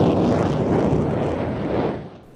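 An F-16 fighter jet pulls straight into a vertical climb during an airshow display, its engine a loud broadband roar that holds steady for about two seconds, then begins to fade as the aircraft pulls away.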